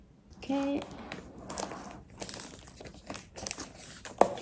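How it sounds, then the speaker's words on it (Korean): Thin plastic wrap on a new Apple MacBook Pro crinkles and rustles in short bursts at close range, with brief spoken phrases and a sharper crackle near the end. "비닐 포장이 한 겹 되어 있고요."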